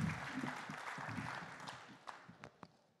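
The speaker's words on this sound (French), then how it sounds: "Vous pouvez les applaudir. Et puis, vous pouvez applaudir Nadia." A seated audience at a regional conference on territorial issues gives guests a round of applause, a broad steady patter of clapping that slowly fades over a few seconds, with no voices over it.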